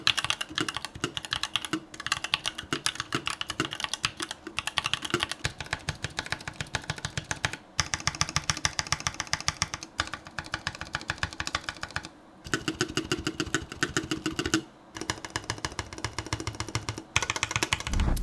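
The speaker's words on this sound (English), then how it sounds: "Here's a quick sound test of these stock stabilizers, even before I lubed and modded the HUSKY switches" Rapid, steady typing on an Idobao ID87 v2 mechanical keyboard with HUSKY switches and stock, unlubed stabilizers, a dense run of close clacks broken by a few brief pauses, with no talking.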